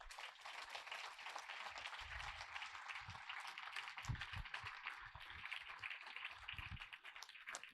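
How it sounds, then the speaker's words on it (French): Steady, dense applause from an audience at a New Year's wishes ceremony in Roquebillière, an even wash of clapping lasting throughout, moderately distant and fairly quiet. "On peut applaudir bien fort Marine Bernard."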